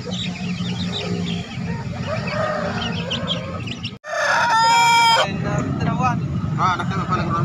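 A rooster at the Bangko chicken market in Makassar lets out one loud, close crow midway, amid steady market bustle, other clucking fowl and people talking.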